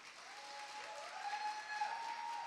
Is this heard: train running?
no